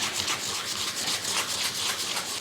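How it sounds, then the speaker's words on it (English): Steady, continuous scratchy rubbing of steel wool applying wax polish across a wooden spinning top, with a gentle back-and-forth swell in the texture, close up and alone. "I use wax polish and I use either steel wool or sandpaper to apply it"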